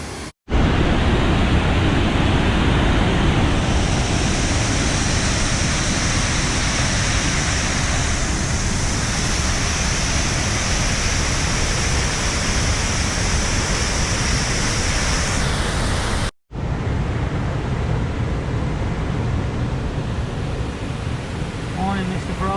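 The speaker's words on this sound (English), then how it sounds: "There's some water going over that." Water pours over a small waterfall beside the Snowdonia slate trail near Llan Ffestiniog, a loud, steady roar close by that continues through a brief break in the middle.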